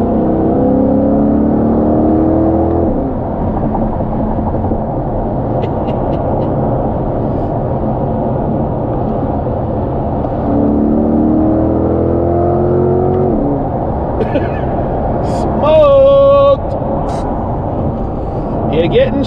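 A 2022 Corvette C8, C8-R Edition, in sport manual mode drops down from seventh gear, its engine note rising into a rev near the end over steady cabin road roar, with someone talking throughout.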